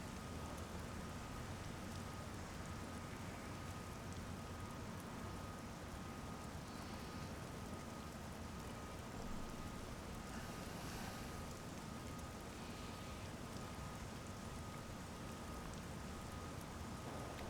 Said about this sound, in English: Rain actually sounds quite nice.